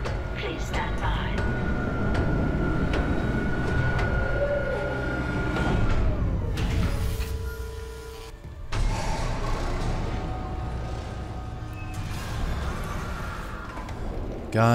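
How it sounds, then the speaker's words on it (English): A tram car pulls in within the sci-fi game Dead Space Remake, a long mechanical whine and rumble that rises and falls with whooshing passes, layered under a voice. "Replacing damaged tram car."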